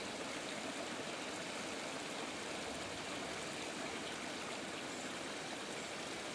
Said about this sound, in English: The waterfall looks pretty.